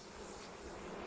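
Honeybees on a hive frame buzzing in a steady, dense hum while being brushed with a bee brush, close and continuous for a brief moment with no voices.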